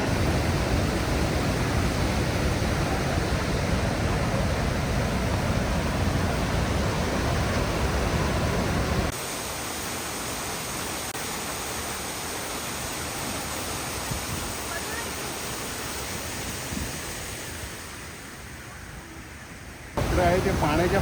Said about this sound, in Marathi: पाणी जे धबधब्याचं खाली येतं आहे वॉटरफॉलचं